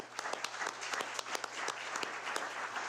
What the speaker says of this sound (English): Let's give Ruben a round of applause